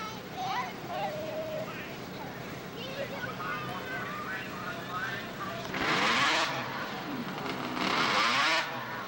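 A Rupp snowmobile racing on a grass drag strip, engine whine rising and swelling into a loud, rushing pass, with people talking nearby throughout.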